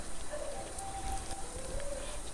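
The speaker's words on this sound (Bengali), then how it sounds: "এভাবে আমি সমস্ত বেগুনিগুলোকে ভেজে নিচ্ছি" Batter-coated eggplant slices (beguni) fry in hot oil, making a steady crackling, rain-like patter with faint thin whistles, close and even throughout, with no voice.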